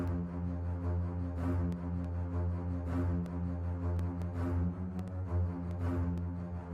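Orchestral basses repeat a steady low ostinato figure, with periodic accented notes punching through the sustained string texture.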